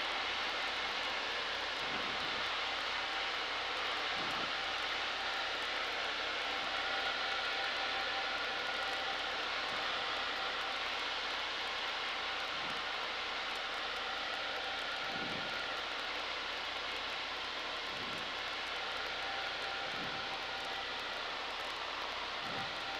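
A Varga 2150A light aircraft engine drones continuously and fairly close during touch-and-go landings, a steady broadband roar from inside the cabin with faint periodic thumps.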